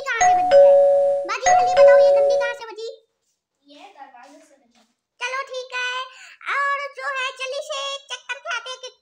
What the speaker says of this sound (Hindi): ये घंटी कहाँ से बजी? ये दरवाजे से बजी।